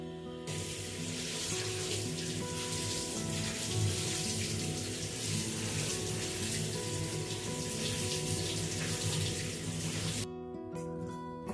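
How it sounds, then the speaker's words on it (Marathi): Poha (flattened rice) rinsed under a running tap, a steady close splashing stream of water pouring through the flakes for about ten seconds before the flow stops. "आता मी हे पोहे धुवून घेते स्वच्छ"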